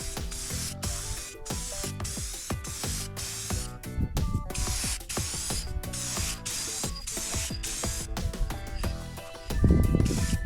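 Ace Hardware Machine and Implement Orange spray paint hissing from a can onto a welded steel bucket hitch piece for a Kubota BX23S tractor, in repeated close bursts with rattling and clicking in between.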